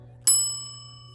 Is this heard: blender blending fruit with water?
no